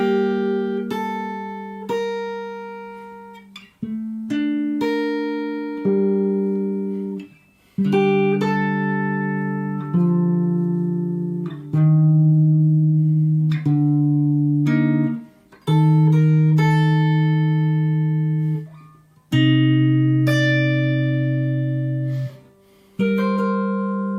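Guitar plays a melodic line from the game Ghost of Tsushima, with clear plucked notes and chords ringing in steady phrases, close and solo without talk.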